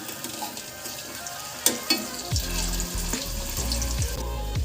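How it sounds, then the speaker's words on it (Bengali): Potato peel pakoras frying in oil, a continuous bubbling sizzle with a few sharp clinks and a low rumbling swell midway, close and clear with no voices. "ফার্স্ট লটে আমি 4টেই দিয়েছি, এগুলো ভাজা হোক"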